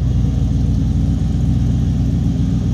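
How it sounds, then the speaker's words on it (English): Engine of a 1957 Chevrolet 3100 Big Window street rod fitted with cherry bomb mufflers, idling loud and close with a steady deep rumble and even exhaust pulses, no talk. "Just a nice, nice sounding engine."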